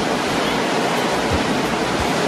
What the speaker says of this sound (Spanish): hemos llegado a la cascada de los vientos, un lugar maravilloso